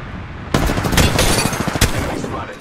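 Sustained gunfire in Apex Legends striking the player, a dense loud barrage of overlapping shots with sharp bursts standing out, running the whole length after a brief quiet start.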